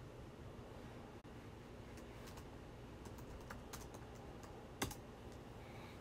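Faint, soft keyboard typing clicks in scattered bursts over a quiet background hiss.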